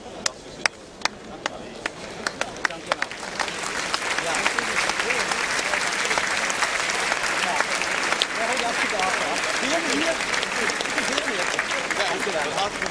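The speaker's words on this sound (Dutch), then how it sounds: "Dames en heren, geef ze nog even een overdovend applaus." An audience claps loudly at a prize ceremony for a drum band, the applause starting as scattered sharp claps and swelling into dense, sustained clapping from a large crowd.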